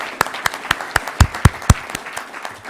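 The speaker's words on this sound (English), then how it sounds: "a round of applause" Audience at an Ohio State University president's Rotary Club talk claps in a scattered round of applause, individual sharp claps clearly audible and fairly close, building briefly then thinning out.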